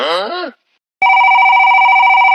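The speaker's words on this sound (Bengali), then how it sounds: "কিটা ফোন দিলে রে?" A voice speaks briefly, then after a short pause a telephone bell rings loudly and continuously in a rapid trilling pattern until the end.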